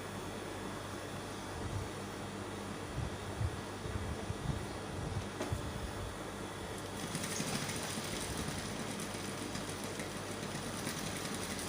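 A sewing machine runs continuously as it stitches the seam of a bustier lace dress, producing a steady whirring drone that grows slightly louder and hissier about halfway through.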